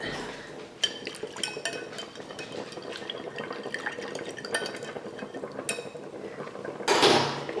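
Hot broth is ladled into an avgolemono egg-lemon mixture for Greek lemon chicken soup, with close clinks of a ladle and utensil against a pot and bowl, light liquid pouring and stirring, and a louder clatter near the end.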